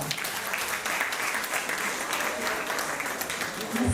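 An audience at a Miss Euroregion committee event applauds warmly to welcome a singer, a dense, continuous wash of clapping with some talk underneath.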